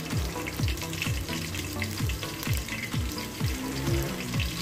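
Cauliflower florets frying in hot oil for manchurian, a dense continuous bubbling sizzle with repeated swooping tones, close and steady, no talk.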